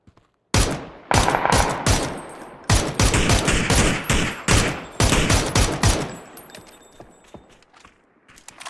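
Rapid bursts of gunfire from the PUBG PC video game, loud close shots in quick volleys with brief gaps, continuing for several seconds before thinning out to scattered faint cracks.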